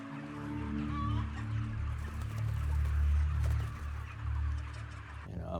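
Chickens clucking in a cage-free poultry setting, a steady murmur of many birds layered over low continuous hum, with occasional sharper calls rising above the flock.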